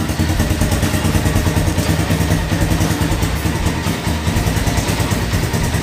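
A Honda Tiger 2000 motorcycle engine, tuned so it won't stall at red lights, idles loudly and close by with a steady, throbbing, slightly clattery rhythm and no talking.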